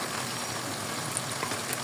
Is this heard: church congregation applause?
no